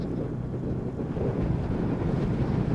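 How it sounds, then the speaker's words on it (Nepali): Strong wind buffets the microphone in a continuous loud roar on a mountain road near Marpha in Mustang, with no pauses or other sounds. "कत्रो हावा चलेको बा"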